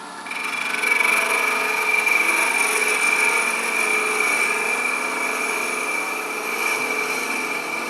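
Wood lathe spinning a workpiece without tailstock support while a gouge slices in, giving a steady, continuous whirring scrape with a high sustained tone throughout, close and loud with no talking.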